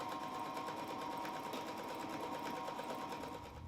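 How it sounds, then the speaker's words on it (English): A sewing machine hums steadily as it stitches upholstery fabric for a chair back. It makes a continuous close mechanical whir at an even level, with no talking. "it's back to the sewing machine time again"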